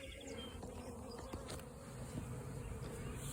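A honey bee swarm hums and buzzes close by as it is about to be shaken onto cardboard, a steady faint droning of many insects with occasional light knocks, and no talk.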